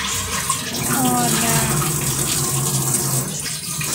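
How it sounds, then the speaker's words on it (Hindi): Tap water runs steadily into a pot in a home kitchen, a close, continuous rushing stream, with a voice faintly over it near the start. "यहाँ पर मैं छान कर फिर पानी भर लेंगे"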